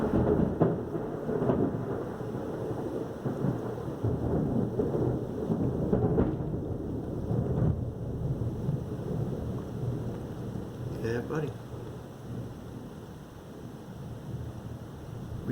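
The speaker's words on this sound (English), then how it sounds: "we've been getting a lot of rain." Heavy rain falling steadily with rolling thunder rumbling throughout, loud and close, with someone briefly speaking over it.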